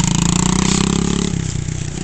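A brand-new dirt bike engine revs hard and steadily, its loud, buzzing note holding close by for about two seconds with no talk over it.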